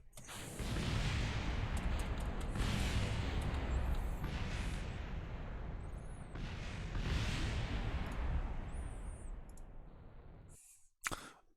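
Rocket engines roar in Kerbal Space Program as a launch fails, a broad sustained rumble with several surges and bursts over about ten seconds, ending in a sharp click and a short loud blast.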